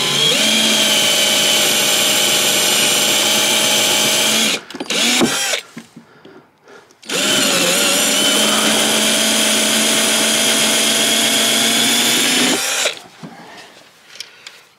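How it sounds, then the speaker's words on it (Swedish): A power drill bores out rivets in a rusty car body panel, two long steady high-pitched whining runs separated by a short pause with a brief spin-down and clatter, loud and close. "Så vi ska se om vi kan försöka att borra ut de här nitarna här."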